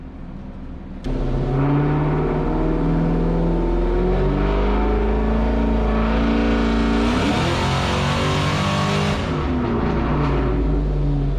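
A Terminator Mustang engine on a dyno makes a first throttle pull, a loud, close, steady rising rev with a sharper peak partway through before easing back down.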